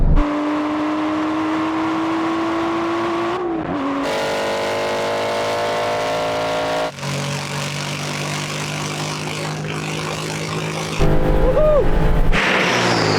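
An Aston Martin GT race car and a road car accelerate side by side in a drag race, one turbocharged, with loud sustained engine drones climbing in pitch through several gear changes, close and continuous throughout.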